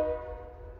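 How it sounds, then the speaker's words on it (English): A train horn sounding from a passing train on tracks right behind a backyard at an ungated crossing, a sustained tonal blast near and loud, fading slightly over a short moment with no talk. "they just honk the whole way through because there's no arms to warn people like, hey, there's a train"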